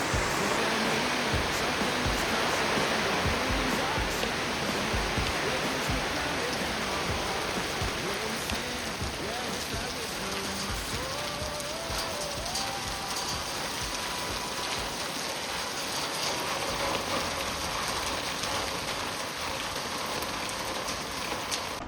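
Heavy rain pours down steadily on a homestead, a dense, even hiss that holds for the whole stretch without letting up.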